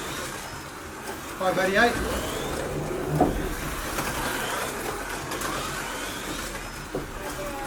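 A Scalextric Ford Sierra RS500 Texaco slot car running on its track, a whirring electric motor hum with rattly mechanical bursts, while someone speaks over it.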